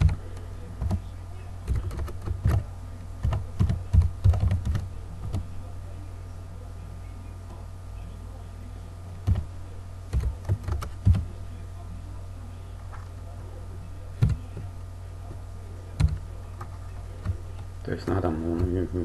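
Someone types Pascal code on a computer keyboard in irregular bursts of close, crisp key clicks separated by quiet pauses, over a steady low hum.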